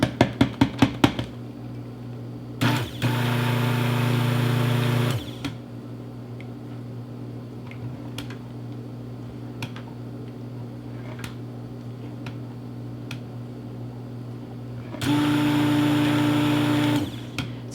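Stick blender whirring steadily as it blends shea butter, coconut oil and other soap oils toward an emulsion for a cold process soap, two bursts of a few seconds each with quiet ticking and clicks between.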